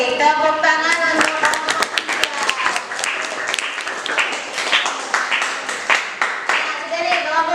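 Students in a classroom guidance session clap together for a group, producing quick, bright hand claps mixed with voices chanting and calling out over them.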